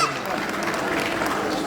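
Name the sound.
applause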